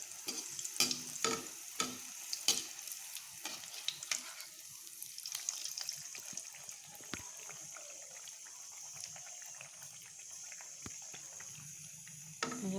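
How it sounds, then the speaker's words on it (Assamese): Tel pitha rice batter cakes frying in hot oil on low flame, with a steady bubbling sizzle beneath frequent crisp clicks and taps of a spatula, busier at the start and then settling into a quieter hiss. "এতিয়া মই পিঠাকেইখন ভাজি লওঁ"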